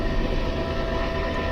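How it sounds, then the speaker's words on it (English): A train rumbles past close to a house, a dense continuous roar of wheels and rail noise at steady loudness, with no voices. "train going like right from my house."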